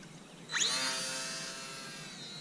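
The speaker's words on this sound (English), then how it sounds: "this is the hobby zone. I believe it's called the Sport Cub S2. My first plane." A HobbyZone Sport Cub S2, a small electric learner RC plane on its first flight, passes with a thin, high motor-and-propeller whine that swells abruptly and then holds steady, fading only slightly as it flies on.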